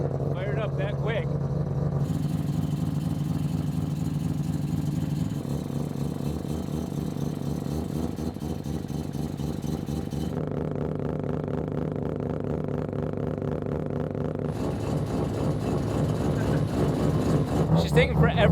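Turbocharged rotary engine car starting up and then idling steadily while warming up, a loud continuous engine drone throughout with speech over it.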